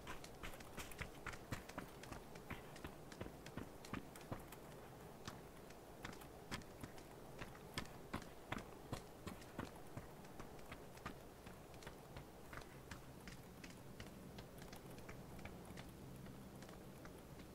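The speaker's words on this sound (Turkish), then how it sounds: "Senin sağından sanki başka senden başka bir ayak sesi duydum ben." Footsteps in the video game PUBG, a steady run of soft, quick clicking steps throughout under low background noise, fairly faint and continuous.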